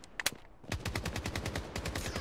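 Call of Duty Mobile gunfire: one or two sharp shots, then a brief pause and a fast, steady burst of automatic fire, loud and close.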